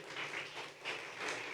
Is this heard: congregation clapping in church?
yes